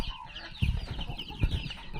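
A farm hen settled in a crate to lay eggs gives a couple of low, close clucks in quick succession with soft rustling between them.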